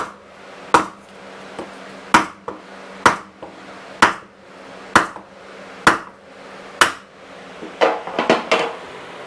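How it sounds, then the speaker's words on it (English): A regular hammer strikes a wooden block in steady, evenly spaced blows, about one per second, ending in a quick flurry of lighter taps, during work on a motorcycle axle. "we're just going to take a block of wood and a regular hammer"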